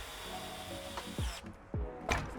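Screws being tightened while a Master Pro battery pack is installed, with quiet ratcheting clicks and a few short tool strokes and thumps, close and soft against a faint hum.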